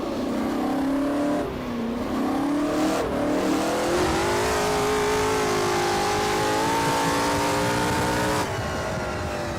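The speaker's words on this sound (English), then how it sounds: "You have a lot of transmission whine going on, which is really cool." A loud racing engine from a historic GT or touring car in the rFactor video game revs steadily upward, with a high transmission whine climbing in pitch alongside it, close and continuous.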